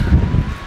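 Strong wind blowing across open hillside terrain near a village, a steady close buffeting rush with rustling, loud and continuous with no voices.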